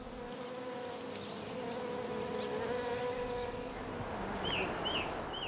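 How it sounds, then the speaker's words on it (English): Flies and other insects buzz steadily around decaying meat leftovers in a bird's nest in the Black Mountain wilderness, a continuous close drone with occasional bird chirps. "Leftovers decay in the nest and attract flies and other insects."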